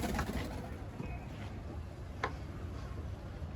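Soft pigeon cooing outdoors just after a flock is released, faint and distant against steady background noise, with a couple of brief sharp ticks.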